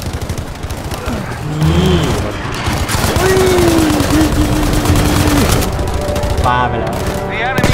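Sustained automatic gunfire in Battlefield V, loud and continuous with overlapping shots and battlefield noise, as a voice speaks briefly underneath.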